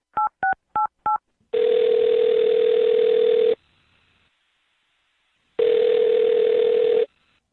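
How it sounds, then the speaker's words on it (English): A telephone number is dialed as four quick touch-tone beeps, then two long loud ringback tones separated by a gap of silence, clean and close with no voices. "I'm going to dial her number right now."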